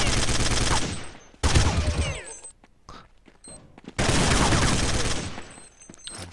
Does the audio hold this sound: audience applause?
no